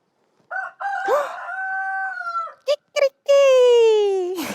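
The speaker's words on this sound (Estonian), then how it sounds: "see on kuke hääl. Kuked teevad nii." A rooster with a red comb crows in a long drawn-out cock-a-doodle-doo, loud and close, broken by short clucks and followed by a second strong crow.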